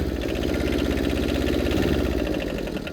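A diesel quad with a sticky throttle runs at a steady, rough, knocking idle close by, its low rumble even throughout and easing slightly at the end.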